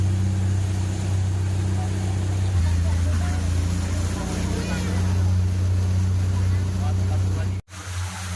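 A river taxi boat motor drones steadily at a low pitch over rushing water and wind on the Tamban River in South Kalimantan, Indonesia, continuous throughout, then briefly cuts out near the end.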